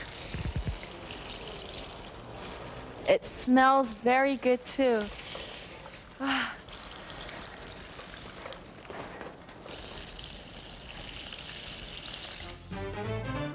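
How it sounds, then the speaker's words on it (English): Steady sizzle and crackle of chicken frying runs throughout, with a person speaking briefly over it and a few clinks near the start. "Can you hear that sizzling sound?"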